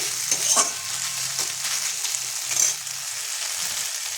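Chickpeas sizzle and bubble in a pan after water is added, a steady crackling hiss with a few sharper pops and soft stirring scrapes, close and alone without voices.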